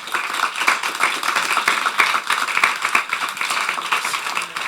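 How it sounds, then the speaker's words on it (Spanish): A church congregation claps and applauds together, a dense, steady wash of many hands sustained throughout without pause, fairly loud and close. "Denle un aplauso al Señor por eso."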